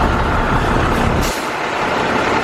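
Loud, continuous roar of heavy Manila traffic with bus and truck engines close by and a brief hiss of air brakes partway through, no voices.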